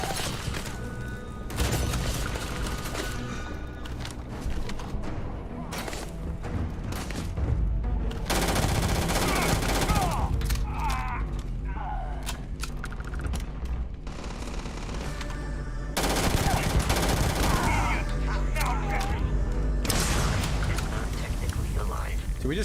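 Bursts of rapid gunfire from the Starfield video game crackle in loud volleys throughout, mixed with impacts and game effects while a player talks over the action.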